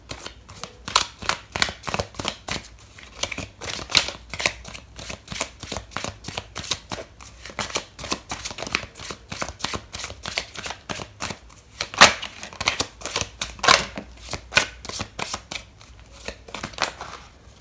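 A deck of tarot cards is shuffled up close, with a long, even run of quick papery flicks and riffles that swell into louder bursts now and then, and no talking.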